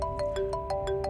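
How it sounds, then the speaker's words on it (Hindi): A phone rings with an incoming call, a bright electronic ringtone of steady held notes pulsing in short repeated bursts about every sixth of a second, fairly close and clear with no talking. "फोन आ रहा है।"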